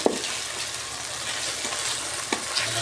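Ginger paste sizzles with garlic and onions in a rice cooker, a continuous close hiss of frying with a couple of soft knocks from stirring.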